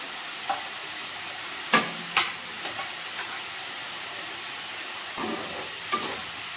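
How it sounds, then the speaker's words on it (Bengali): Eggplant pieces go into a pan of simmering hilsa fish curry, giving a soft steady sizzle and bubbling, broken by a few sharp clinks and scrapes of a utensil against the pan. "এবার আমি বেগুনগুলো দিয়ে দেবো।"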